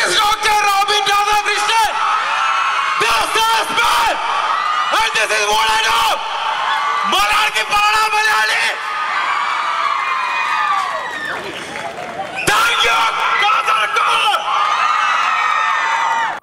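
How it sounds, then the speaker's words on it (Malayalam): A crowd of fans at a jewellery showroom inauguration in Kasaragod cheers, whoops and shouts loudly in repeated bursts with a few brief pauses, voices overlapping in a festive din. "റോബിനെത്തിയപ്പോൾ ആരവങ്ങളും ആർപ്പുവിളികളും ഉയർന്നു."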